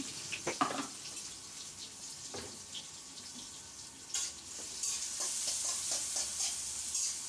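Oil in a pan starting to fry, with scattered scrapes and clinks early on, then a steady hiss that grows louder toward the end, close and moderately quiet, no talking.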